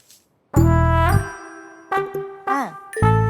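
A mobile phone rings with a melodic electronic ringtone, a series of bright, sustained chiming tones that rise and fall in pitch, loud and close, with short gaps between phrases and no talking.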